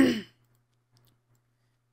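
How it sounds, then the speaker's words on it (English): A single short cough from one person, close and fairly loud at the very start, followed by near silence with only a faint low hum. "Cough, cough."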